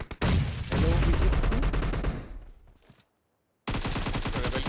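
Sustained automatic gunfire in a mobile shooter game, loud and rapid for about two seconds, fading, then a brief silence before another hard burst resumes.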